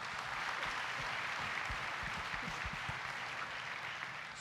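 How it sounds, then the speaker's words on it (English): Audience applause at a Relay For Life leadership conference panel, a steady wash of many hands clapping that stays fairly quiet and distant for the whole span, with no talk over it. "Give these folks a big round of applause."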